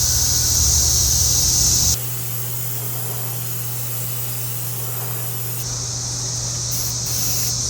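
A spray gun lays down a first coat of candy paint mixed from powder pigment concentrate onto a custom motorcycle part, giving a steady close hiss with the air pulsing louder at the start and again near the end.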